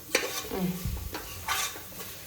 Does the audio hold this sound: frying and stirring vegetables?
yes